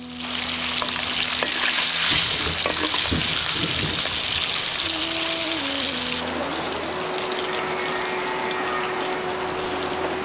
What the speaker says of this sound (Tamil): கொஞ்சம் எண்ணெயில் வேக வச்சிருந்த முட்டையோட கொஞ்சம் மஞ்சத்தூள் உப்பு சேர்த்து பொறிச்சு எடுத்துருவோம்